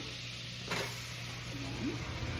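Onion sizzles faintly in melted unsalted butter in a pan for a chicken casserole, a soft steady frying hiss with a low hum beneath and a brief stirring rustle, no talk.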